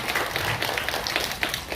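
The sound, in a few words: audience applause for a judge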